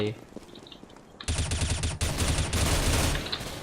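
Automatic gunfire from the video game Counter-Strike: Global Offensive, loud rapid bursts that start abruptly after a quiet moment and continue in clusters, with players' voices talking over it.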